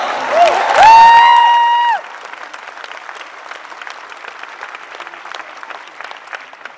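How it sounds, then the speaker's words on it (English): Audience applause fills a SXSW keynote hall, loud dense clapping from a large crowd that rises then settles to a lighter patter, with a brief raised voice near the start. "Let's clap it up for us."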